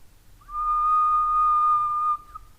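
A single steady whistle into a microphone holds one clear pure tone for about a second and a half, close and fairly loud over a quiet background, with no talking.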